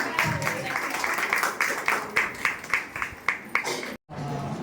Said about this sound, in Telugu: దయచేసి అందరూ చప్పట్లతో ఆహ్వానిద్దాం.